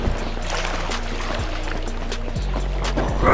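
Boat moving on water in GTA 5, a steady low engine drone with sloshing, splashing water over it and a few sliding tonal shifts, continuous and close.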